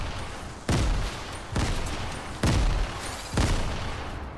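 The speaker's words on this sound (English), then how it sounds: "Watch out those grenades." Grenades explode in a Fortnite match, four heavy booms spaced under a second apart with crackling gunfire between them, loud and close.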